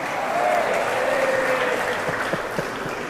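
Audience applause at a religious Maulid Nabi gathering, a steady wash of crowd clapping with faint voices over it, moderately loud and sustained.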